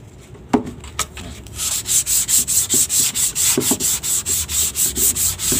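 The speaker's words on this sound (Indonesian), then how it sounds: "Ini saya menggunakan amplas 240 yang bekas ya." A few scattered taps, then steady back-and-forth strokes of used 240-grit sandpaper rasp across a wooden bird cage in a brisk, even rhythm, close by with no talking.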